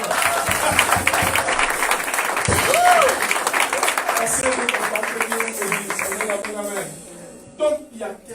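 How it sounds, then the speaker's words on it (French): A church congregation at a Sunday service applauds and cheers, with dense sustained clapping and crowd noise mixed with voices and a shout before the applause thins out near the end. "Est-ce qu'on peut acclamer le Seigneur?"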